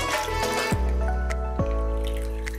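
Water poured into a slow cooker holding pork and beef broth, a close liquid splash and trickle with a couple of sharp drips standing out.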